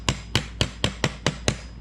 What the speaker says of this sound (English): You can usually take a hammer if it's a wood door. Just